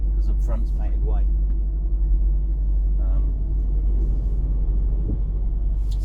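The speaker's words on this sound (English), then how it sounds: "It's a lovely lorry to drive, it really is." A Renault lorry's engine rumbles low and steady from inside the cab while driving in Ireland, a constant deep drone beneath someone talking throughout.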